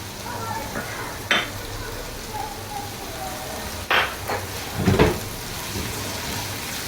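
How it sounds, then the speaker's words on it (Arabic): Onion frying in a pan to caramelize, a low steady sizzle broken by a few sharp scrapes and clinks of a utensil stirring against the pan. "نضيف له البصلة ونكرملوه"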